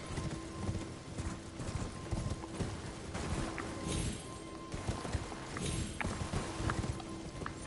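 Horse hooves clip-clop steadily in Elden Ring, a continuous trotting rhythm over a bed of game ambience and music, with an occasional whinny and no speech.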